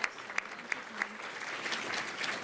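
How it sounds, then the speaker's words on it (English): An audience at a civic awards ceremony applauds in a soft, steady wash of clapping with a few sharper claps standing out near the start, heard from a moderate distance. "How about another round of applause?"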